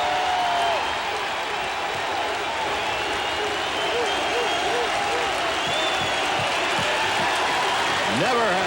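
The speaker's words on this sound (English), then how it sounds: "it's not a sellout crowd by any means, but they're making sellout noises" A ballpark crowd at a Mariners–Red Sox game in Boston roars and applauds after a Red Sox strikeout, a dense, sustained wall of cheering and clapping that swells again near the end, with a commentator's voice running underneath.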